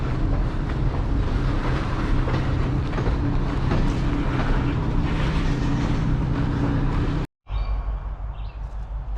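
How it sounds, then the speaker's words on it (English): Freight train moving and backing up to park rail cars, a loud continuous rumble and rolling clatter close by that cuts off briefly and then resumes. "train just started moving."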